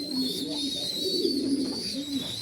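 A small, long-bodied racing pigeon coos softly in repeated low rolling calls while held in the hand, a steady background hiss running beneath it.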